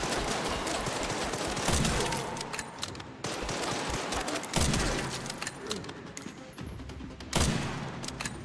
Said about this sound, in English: Maybe this is where I use my beautiful rifle.